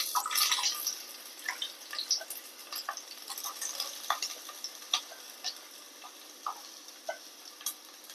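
Onion sizzling and frying in oil with cloves, cinnamon and cardamom in a pan for a potato curry, a steady hiss broken by frequent clicks and taps of stirring, close and fairly quiet throughout.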